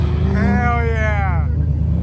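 A diesel burnout truck engine revs loudly close by, a steady low rumble with rising and falling harmonic whine as the throttle swells and settles over about two seconds.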